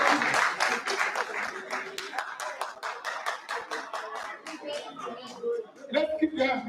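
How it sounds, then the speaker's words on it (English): A meeting audience claps at a research review session, sharp individual hand claps forming steady applause close by for several seconds, thinning toward the end as a voice and some shuffling come in. "Please, round of applause for it."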